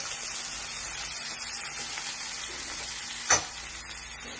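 Tomato and green chilli frying in a pan for sprouted moong dal, a steady close sizzle throughout with one brief sharper crackle burst near the end, no talking.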